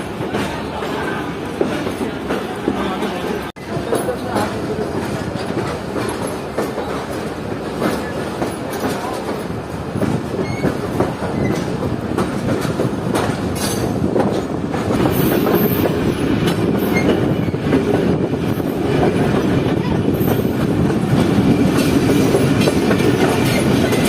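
Pak Business Express train running on the rails between Karachi and Lahore, giving a loud continuous roar with rhythmic clickety-clack of wheels and occasional squeals, heard from inside a coach.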